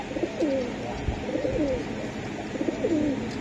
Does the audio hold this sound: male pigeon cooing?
yes